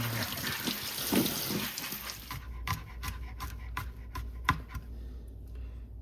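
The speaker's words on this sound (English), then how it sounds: "I'm going to rinse any dirt off that's on" Small potatoes rinsed under a running kitchen tap, a steady close wash of water over them, with light rubbing and clicking handling sounds breaking through as the flow thins out.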